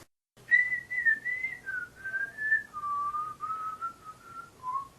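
Someone whistles a slow, wandering tune, clear and close, one sustained pitch sliding gently up and down with no other sounds.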